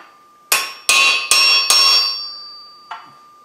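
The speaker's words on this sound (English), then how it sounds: "We're going to start by walking the chisel on that hot cut mark." A hammer strikes a chisel on a hot cut mark at the forge, four sharp ringing metallic blows in steady succession, then a fifth softer hit after a pause, each leaving a bright bell-like ring.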